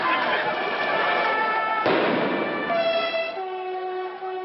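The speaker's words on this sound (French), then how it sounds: "Un conducteur de train apporte son soutien à cette révolte d'un coup de klaxon." Horn blast from a passing train during a street protest, a loud sustained multi-tone blare that holds, then shifts to a steadier tone, heard over crowd noise.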